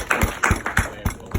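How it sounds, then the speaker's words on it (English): A few people at a chess club clap at a steady, loose rhythm, each beat punchy and close, with no voices over the short round of applause. "please give Hovanes a round of applause."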